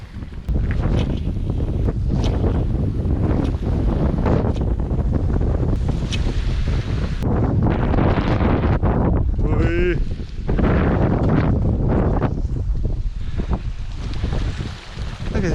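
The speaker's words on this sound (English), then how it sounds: "It's a little bit of a side shore, cross shore wind" Strong cross-shore wind buffets the microphone on an Australian coastline, a loud, gusty roar that rises and falls throughout, mixed with surf and voices talking.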